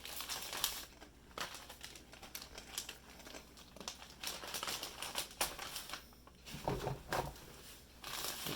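Ribeye steaks being pushed into plastic vacuum sealer bags, giving close, busy crinkling and rustling of plastic with irregular handling bumps throughout, no talking.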